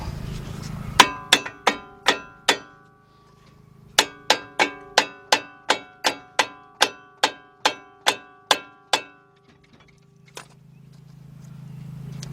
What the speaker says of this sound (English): Give me a little hammer or something over here. Tap that up.